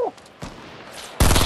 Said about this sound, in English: Yeah, they're shooting at me.